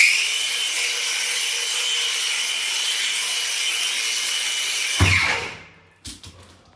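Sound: brushless angle grinder shutting off by itself when dropped

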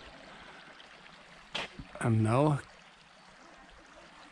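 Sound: small creek flowing

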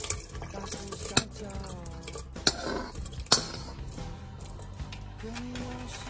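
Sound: beef being put into a clay pot

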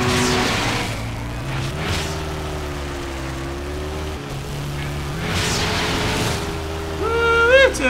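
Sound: car boosting during race in video game RAGE

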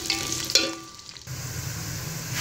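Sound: chopped onions frying in hot oil

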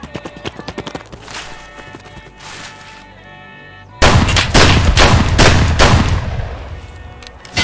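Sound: gunshots in Escape From Tarkov video game

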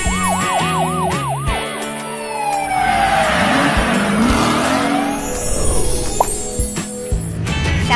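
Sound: toy police car driving with siren

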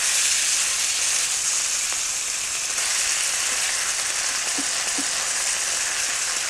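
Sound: marinated beef slices stir-frying in a hot wok

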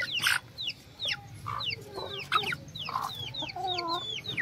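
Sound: pet chickens clucking

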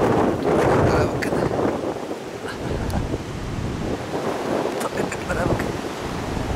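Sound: strong wind blowing into the microphone

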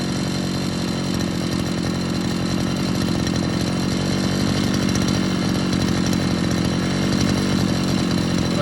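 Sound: Chinese petrol brush cutter running

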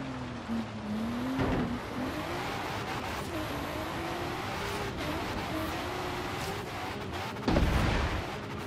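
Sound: Volvo car driving off-road in Forza Horizon 3 video game

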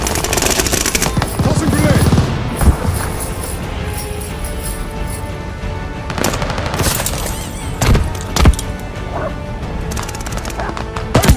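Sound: Browning Auto-5 shotgun gunfire in video game Call of Duty Vanguard

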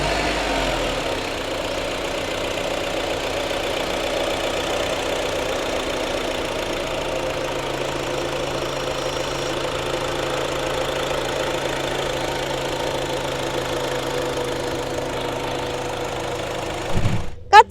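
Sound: Honda CR-V engine starting and idling

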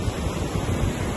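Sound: wind at the beach

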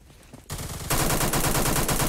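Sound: G3A3 rifle gunfire in a video game

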